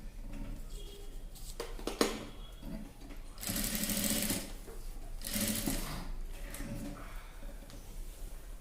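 A sewing machine stitching a neck design on an everyday dress, running in steady whirring bursts with short pauses between runs, close and clear with no voices over it.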